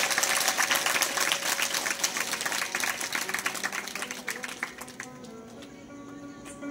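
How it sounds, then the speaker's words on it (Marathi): Loud, dense applause from a religious gathering honouring kirtan performer Pralhad Maharaj Ubhale, sustained for several seconds before gradually thinning and fading toward the end. "असे असणारे आमचे प्रल्हाद महाराज उभाळे यांच्यासाठी एकदा जोरदार टाळ्या वाजवा"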